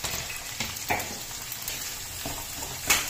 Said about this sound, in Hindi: कटी हुई हरी मिर्च डाल रहे हैं, इसको भूनते हैं, साथ में ये प्याज डाल देंगे।